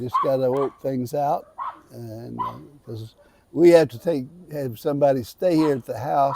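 Small dogs bark and yip intermittently at a house in the Philippines, heard behind someone talking continuously.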